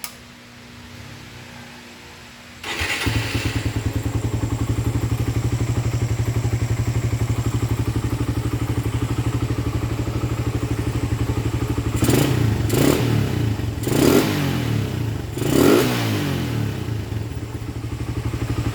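A motorcycle engine with a big carburetor, being tuned, starts from near-silence and settles into a steady, throbbing idle. Near the end, four quick throttle blips rise and fall in close succession.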